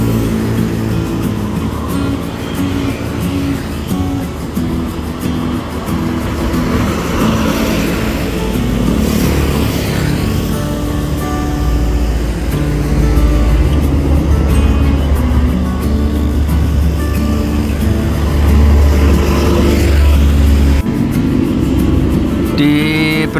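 A Dewi Sri intercity bus pulls away from a roadside restaurant stop in Cirebon, its deep engine rumble building steadily and staying loud and close for the whole stretch, with surrounding traffic noise mixed in.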